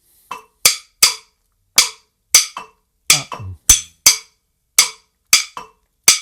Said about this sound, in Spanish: la clave de rumba en clave 2-3 sonaría así